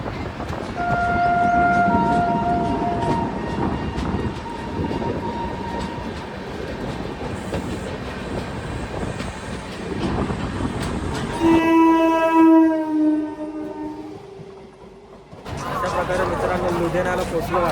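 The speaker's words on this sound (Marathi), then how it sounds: "तर अजून 3 तास ट्रेनवर ट्रॅव्हलिंग करायचं आहे." Onboard sound of a long-distance passenger train travelling toward Amritsar in India: steady rumble and clatter throughout, with a loud horn blast sounding partway through, and people talking in the background.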